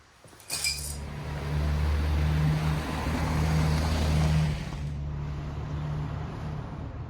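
An MK1 VW Rabbit starts moving and drives off, a steady engine drone with low harmonics rising after a brief clink at the start, holding loud and even before easing slightly toward the end.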